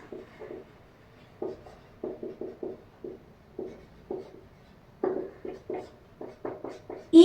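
Chalk or marker strokes on a board while writing math examples for a lesson, a steady series of short scratchy taps and swipes, fairly close and alone without talk.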